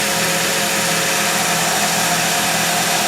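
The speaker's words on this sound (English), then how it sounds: "Motor is slowing down." An electric motor running on a dyno test stand as it winds down, a loud continuous broadband whir and hum that stays steady and dense throughout, with no voices.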